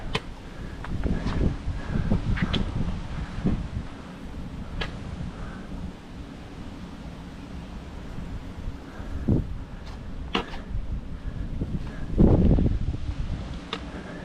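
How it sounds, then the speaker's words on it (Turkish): Gusty wind buffets the microphone at a small temple in Thailand in rumbling, uneven surges, loudest near the start and again toward the end, with no voices. "Çok rüzgar var burada"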